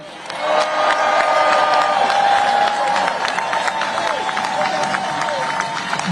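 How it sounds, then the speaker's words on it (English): A crowd at a Labor Day protest in New York cheers and whoops, loud and sustained, with scattered shouts and clapping rising over a broad roar. "Would you cheer for the people who work around you?"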